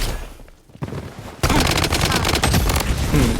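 Automatic gunfire in a first-person shooter, rapid loud bursts at close range, starting quietly and then sustained and dense through the second half.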